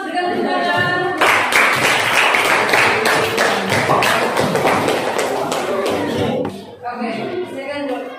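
A classroom of students applauding, a dense, loud patter of many hands clapping that starts suddenly and runs for about five seconds before fading, with voices speaking around it.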